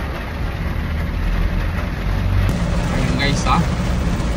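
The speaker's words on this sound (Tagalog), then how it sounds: "bumuhos na ang napakalakas ng ulan" A very heavy downpour in Urdaneta makes a dense, loud, unbroken roar of rain that fills the space. Someone briefly speaks over it.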